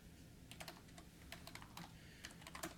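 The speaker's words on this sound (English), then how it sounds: "Even typing in front of a crowd is weird for me" Quiet clusters of keystrokes tap on a computer keyboard in irregular bursts, soft and close, with no voices over them.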